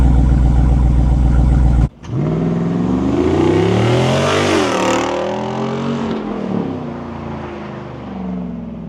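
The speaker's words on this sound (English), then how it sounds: "Can't beat the sound of a V8." V8 of a 2024 Jeep Rubicon 392 Final Edition revving close by: a loud engine drone breaks off sharply, then a throaty rev climbs to a peak and falls back to a rumbling idle, with no voices.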